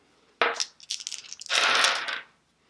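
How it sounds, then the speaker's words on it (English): Three dice drawn and rattled out of a cloth bag in a Dice Stars board game: a sharp clatter, a string of small clicks, then a longer rustling shake, close and alone. "now I have to draw three dice from the bag"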